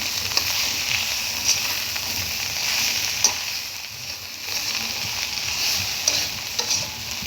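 Fried bottle gourd with egg and a half teaspoon of sugar, stirred in a pan: continuous soft sizzle with repeated spatula scrapes and clinks, close up, no voices.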